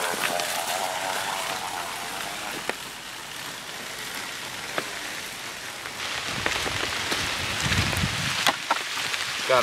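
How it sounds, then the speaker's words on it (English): Steady rain falls on a freshly planted fall deer food plot, a dense close hiss of drops with scattered sharper splats throughout and faint rustling underneath. "now it's raining"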